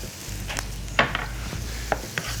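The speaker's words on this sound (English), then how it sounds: "I wanna get that toasting a little bit in the pan" Dry turmeric powder being stirred and toasted in a hot pan, giving a soft low sizzle with a few light scrapes and taps of the utensil against the pan, fairly quiet and steady with no talking.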